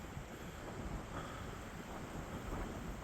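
Strong wind buffeting the microphone on a mountain ridge during a hike in Byeonsanbando National Park, a loud continuous low rumble with gusty fluctuations and no voices.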